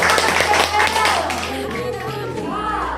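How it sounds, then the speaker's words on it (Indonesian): A classroom of children clapping together for a classmate, a brisk, uneven patter of small hands with voices talking over it. "Ya, tepuk tangan buat Titi."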